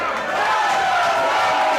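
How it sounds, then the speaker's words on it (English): A football stadium crowd roars in a steady, dense wash of cheering that holds at a constant level throughout, with no single voice standing out. "You can hear the cheer from the spectator standpoint here."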